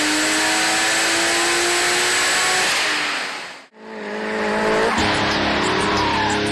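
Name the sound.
drifting car with screeching tires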